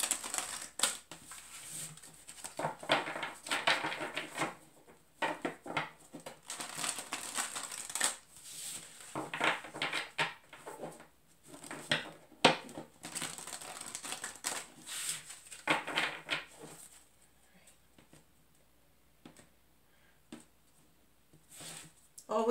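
Rapid papery riffling and soft slapping of tarot cards being shuffled, in several bursts with short pauses between, fairly close.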